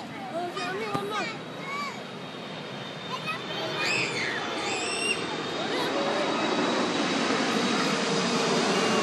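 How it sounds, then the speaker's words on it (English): An aeroplane passes overhead at a child's third birthday gathering, its broad engine roar swelling steadily louder across the clip beneath chatter and children's voices. "aeroplane."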